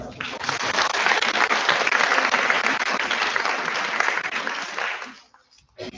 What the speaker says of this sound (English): Have a big clap for Nora.